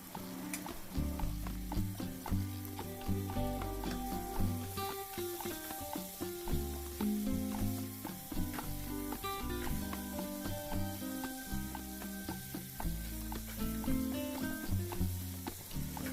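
Half a kilo of washed chicken goes into a hot pan with chopped tomatoes for chicken pulao, sizzling steadily for the whole stretch with repeated stirring scrapes, close and loud with no talking.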